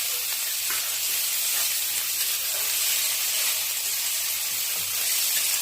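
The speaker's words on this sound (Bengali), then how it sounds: "দিয়ে ভালো করে ভেজে নেব।" Chopped onions fry in hot oil with cloves and cardamom, giving a steady, close, bright sizzle and hiss that runs on evenly with no one speaking.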